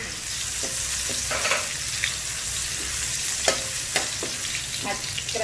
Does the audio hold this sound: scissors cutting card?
no